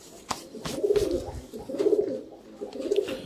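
Sialkoti sharmila pigeons cooing close by in three rhythmic, throaty phrases, each one swelling and fading, with no talk over them.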